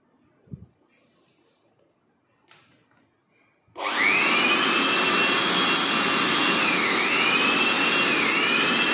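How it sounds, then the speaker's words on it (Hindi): A Jakmister 600 W electric air blower, set up to work as a vacuum cleaner, starts after a few quiet handling clicks and roars loudly and continuously with a steady high whine whose pitch wavers slightly. "तो ये वैक्यूम क्लीनर की तरह काम करेगा।"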